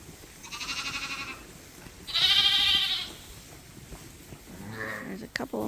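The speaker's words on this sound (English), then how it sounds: "There's a couple of more lambs that were crying and wanted a quick suck." Young lambs on a sheep farm bleat in three separate cries, the middle one loudest and longest, close by against a quiet barn background.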